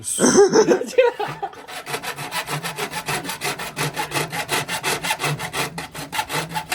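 Hand saw cutting through a wooden board, a steady rhythmic back-and-forth rasp of about a dozen close, loud strokes after a brief rustle at the start.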